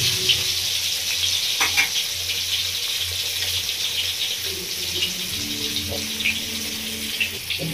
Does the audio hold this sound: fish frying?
yes